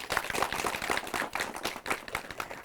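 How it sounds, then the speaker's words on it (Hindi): Women farmers applauding a panel of agricultural experts in Shimla, a brief round of brisk, close clapping from a small group. "तो ये तो रही तालियां विशेषज्ञों के लिए"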